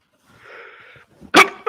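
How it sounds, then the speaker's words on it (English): A single loud, sharp sneeze lands close to the microphone at the end, preceded by a soft intake of breath and a quiet hum during a livestream. "Felt a sudden need to sneeze, and I apologize for doing that into the microphone"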